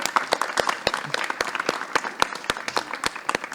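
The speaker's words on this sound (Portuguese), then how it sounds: "Palmas pro Marcelino" Audience applause welcoming poet Marcelino Freire onto a podcast stage, dense overlapping claps with sharp individual hand strikes standing out, close and steady for a few seconds, a few voices mixed in.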